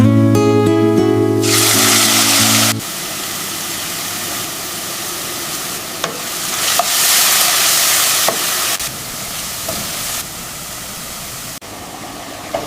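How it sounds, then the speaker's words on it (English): Steady hissing sizzle of diced onions frying in hot oil, broadband and continuous, with a few faint clicks and scrapes; a brief tonal sound opens the clip. "We'll let these gently sizzle until they start to soften and become translucent."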